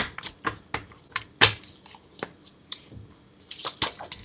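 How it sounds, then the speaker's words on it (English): Tarot cards being shuffled by hand, a run of quick papery riffles and flicks in an irregular rhythm, close and fairly quiet with no talk over them. "Let me get a shuffle up here for you, Stars."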